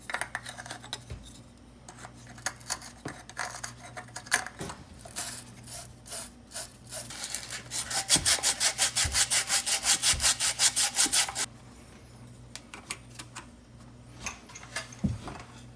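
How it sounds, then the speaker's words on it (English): A deburring tool rubs and scrapes the cut edge of a pipe at a joint being readied for a coupler during an ice maker outlet box installation. Scattered scrapes build into a run of fast, rhythmic strokes midway, close and fairly loud, then fade to a few light scrapes. "So now we need to prepare the joint there for the coupler. I'm just deburring the edges."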